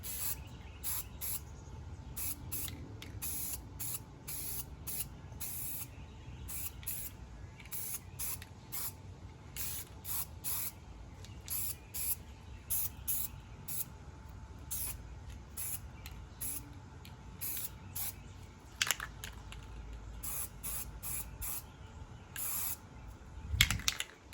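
An aerosol can spraying paint onto an engine timing cover for a 4.3, heard as a steady close hiss broken by many short rapid bursts, with no voices.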